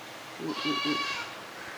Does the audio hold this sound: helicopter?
no